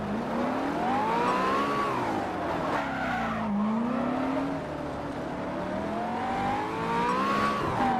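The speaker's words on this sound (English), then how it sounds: "And that's me spinning the car completely." A race car spins out and skids in the Simraceway racing video game, with loud, sustained tire squeal sweeping up and down in pitch along with engine noise for several seconds.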